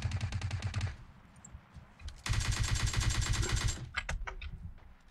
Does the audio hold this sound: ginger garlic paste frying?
no